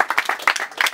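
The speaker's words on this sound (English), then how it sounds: "Clap it up, man." A crowd claps at a rap battle in one short, loud burst of scattered hand claps lasting about a second, with faint voices mixed in.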